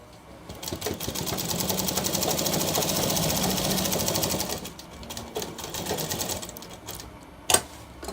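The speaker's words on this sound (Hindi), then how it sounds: "इस तरह लगाई सिलाई।" A sewing machine runs steadily while stitching a shirt, a continuous whirring rattle that builds over the first second, holds, then eases and stutters in shorter bursts near the end, with a sharp click toward the close.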